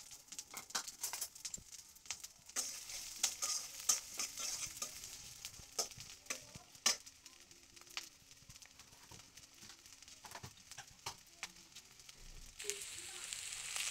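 Sliced onion and chili stir-frying in hot oil in a wok: a faint steady sizzle with frequent light scrapes and clicks of a spatula, irregular and close, with no voices.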